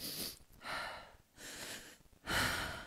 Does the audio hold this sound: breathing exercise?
yes